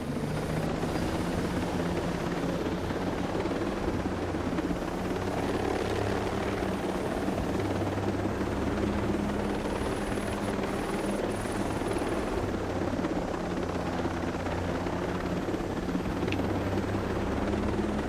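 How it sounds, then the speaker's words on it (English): Helicopter in the video game Ghost Recon Breakpoint: a constant, loud rotor thump and engine drone, steady throughout with no voices. "And I'll take a helicopter."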